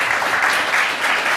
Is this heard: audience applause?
yes